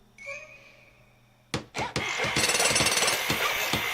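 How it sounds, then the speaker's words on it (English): Cartoon construction noise from My Little Pony: Friendship Is Magic, a few loud thunks followed by a rapid, steady jackhammer rattle that fills the rest, after a faint tonal sound at the start. "I like how there's always a jackhammer in any construction noise."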